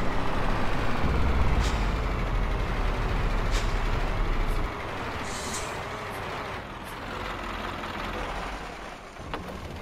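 An engine drones steadily under a truck in American Truck Simulator, broken by several sharp hissing air-brake releases, loud and close with no talking.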